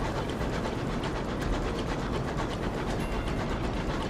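Sky train from the video game Sunless Skies, a continuous loud rumbling rail roar with rhythmic clattering, steady throughout with no voices.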